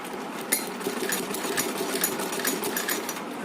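A sewing machine stitches a ribbon dress for a Laddu Gopal idol, running in a continuous close rapid chatter with small irregular knocks throughout.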